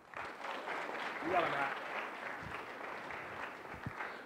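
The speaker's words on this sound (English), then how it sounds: "Let's give him a huge round of applause" An audience at a startup pitch competition gives a hearty round of applause, a full, even clapping that swells slightly mid-way, with a brief voice calling out amid it.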